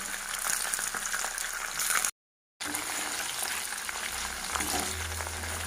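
Steady crackling sizzle of fish frying crisp in a hot non-stick pan, close and continuous, broken by a short silent gap.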